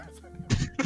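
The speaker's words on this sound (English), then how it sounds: "Stop coughing, man!" A player coughs twice in quick succession over voice chat during a Rainbow Six Siege match, short harsh bursts close to the microphone.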